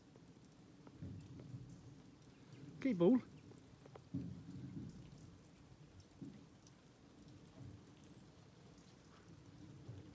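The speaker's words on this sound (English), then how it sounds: "It's raining." Rain patters steadily outdoors in a yard where a small MTD rotivator sits, with a brief rumble and a short spoken exchange partway through, all fairly quiet.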